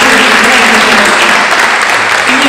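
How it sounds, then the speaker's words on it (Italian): Loud, dense applause from an audience at a book presentation in honour of a recently deceased poet, a close continuous wash of clapping that tapers slightly toward the end. "ci ha lasciato, Michelangelo Marson, a cui io voglio fare un applauso."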